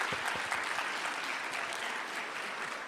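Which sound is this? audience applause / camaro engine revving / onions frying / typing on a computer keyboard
audience applause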